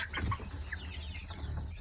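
Big chickens cluck in a farmyard coop, several short close clucks near the start and a softer ongoing cackle after, with no talk.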